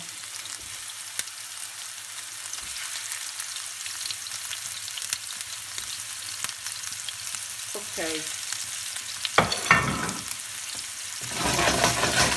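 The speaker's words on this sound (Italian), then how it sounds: "ho messo l'olio e adesso mettiamo le polpettine" Steady oil sizzle and spatter from small meatballs frying in a pan, with occasional clinks and a brief voice; the sizzling grows louder toward the end.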